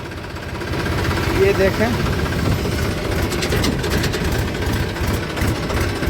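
A tractor engine idles with a low, knocking diesel rumble nearby that continues steadily while someone speaks over it.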